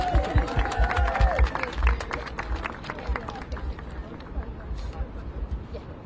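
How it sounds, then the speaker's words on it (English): Applause and clapping from the audience at a press conference held by Chicago officials, a dense burst of claps over a steady crowd murmur, strongest at the start and gradually thinning out. "Give yourselves a round of applause."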